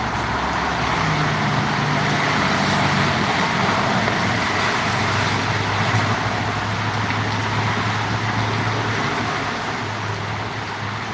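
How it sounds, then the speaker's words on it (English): Continuous road traffic noise, a dense rumble and whoosh of vehicles passing nearby, steady throughout without a break or any talking. "We'll just watch some cars. We might see a nice one go past."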